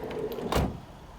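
A Volkswagen Transporter panel van's sliding side door is pulled open, a single sharp clunk and rolling slide at close range, heard alone against a quiet background.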